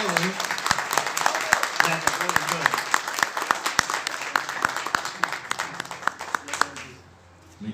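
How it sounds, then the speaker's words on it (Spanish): A church congregation at a Sunday service claps for their pastor, a dense patter of hands with a few sharper claps standing out, fading away near the end. "¿Lo recibimos con un aplauso?"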